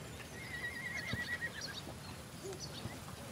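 A mare whinnies in a drawn-out, wavering call, fairly clear over a steady outdoor background, with a couple of faint hoof knocks.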